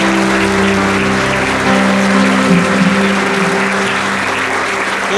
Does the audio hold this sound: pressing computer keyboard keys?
no